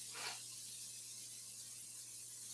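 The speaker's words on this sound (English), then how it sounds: "I'm going to spray this" A short hiss of cooking spray over chicken drumsticks, close and quiet, over a steady low hum with no voices.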